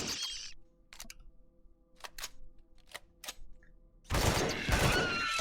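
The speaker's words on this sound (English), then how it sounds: "I'm shooting them and then I'm not shooting them." In Empyrion: Galactic Survival, a weapon fires at scorpions in a few separate pairs of sharp, clicky shots over quiet ambience, and then a loud, dense rush of noise closes the stretch.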